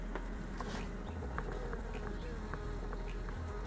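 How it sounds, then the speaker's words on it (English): Honeybees buzz steadily around an opened hive in spring, a dense continuous drone of many insects close by, with occasional individual bees passing louder near the listener. "Hello, little bees."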